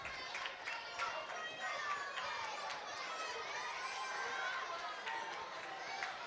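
Home crowd at a Scotland U21 football match against San Marino U21, a steady wash of distant cheering and chatter filling the stadium under a commentator's voice.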